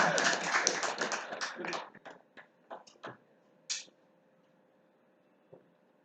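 Audience at a startup accounting seminar clapping: a short burst of many hands for about two seconds, then a few scattered, fading claps and isolated taps.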